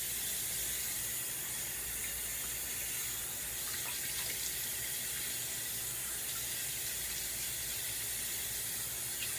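Hot water runs steadily from a tap into a sink as a constant, close hiss with no breaks.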